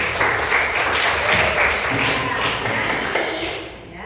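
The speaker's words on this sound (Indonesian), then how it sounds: "Tepuk tangan untuk Mbak Anggun dulu." A classroom gives Mbak Anggun a round of applause during a teaching session, heard as steady, dense clapping from a group that holds evenly and then tapers at the end. Voices can be heard under it.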